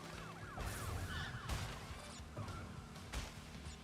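A police car siren wails through a Crash Bandicoot Trilogy game level, sweeping in repeated rising and falling tones over busy, loud game music with crashes and thuds.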